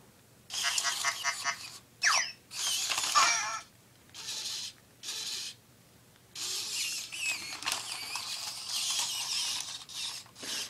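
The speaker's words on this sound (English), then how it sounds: "The torso motor on this one's way faster than the white one" A Robopet robot toy's fast torso motor whirring in repeated bursts of high, buzzing gear noise, each a second or so long with short pauses between, close and unaccompanied by talk.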